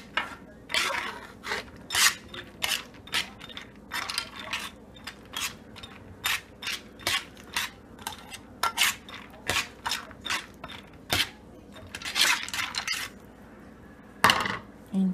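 Pumpkin seeds tossed with butter in a bowl, giving a string of sharp clinking, scraping knocks at an uneven rhythm, close and fairly loud, with faint background voices between strokes.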